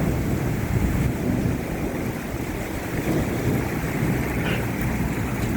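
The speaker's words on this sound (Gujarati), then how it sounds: "વીજળીઓના કડાકા એક જ ધારા ચાલુ છે." Thunder rumbles through a steady wash of rain and wind during an unseasonal thunderstorm at a village in Jasdan, a continuous roar with no talk.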